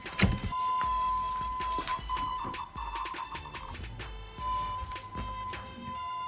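A key turns in an 82-92 Chevy Camaro/Firebird, which is jacked up high, and the fuel pump primes with a steady electric whine and hum. Clicks and clunks from the ignition and relays punctuate the sound, and nobody speaks.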